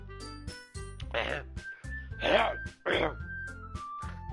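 Someone clears their throat several times in short rough bursts, preparing to read a poem aloud at a podium, with steady background music playing underneath.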